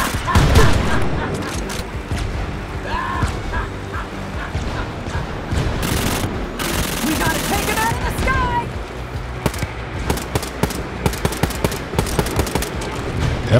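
Rapid automatic SMG fire in the Wolfenstein: Youngblood co-op shooter, loud bursts and clustered shots over a dense, noisy combat mix, with sharp individual reports spaced out toward the end.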